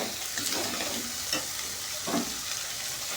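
Spices, green chillies, garlic, bay leaf and ginger-garlic paste are stir-fried in a pan for chicken curry, a steady close sizzle broken by a few scraping strokes of a spoon, with no talking.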